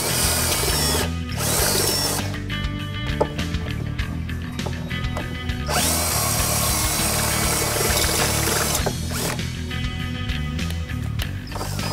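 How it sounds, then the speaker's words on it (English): Power drill with a 17/32 bit boring holes for rivet nuts on a 2015-2020 Mustang during a Ridetech coilover install, loud whining bursts with brief pauses and grinding bite into metal, close up. "Ridetech provides this 17/32 drill bit to drill the holes for the riv nuts"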